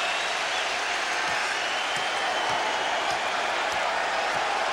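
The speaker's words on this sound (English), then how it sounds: "Letting all the starters get a round of applause" Arena crowd at a 2000 NCAA Tournament regional final basketball game applauding the starting lineups, a dense, continuous roar of clapping and cheering with no breaks.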